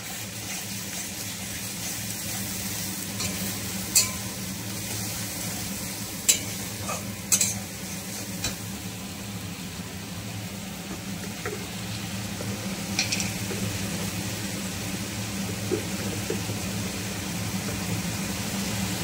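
Ground spice paste of cumin, coriander, chili and turmeric sautés in a pan for a snakehead fish curry, a steady close sizzle broken by occasional metallic clinks of a stirring spoon, with no one talking.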